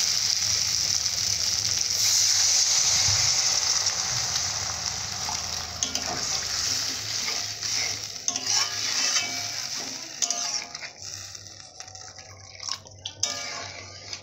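Water is poured into a pan of frying fish masala (rui fish with peas and potatoes), a steady close sizzle that turns to bubbling and spitting hisses as the liquid hits the hot oil.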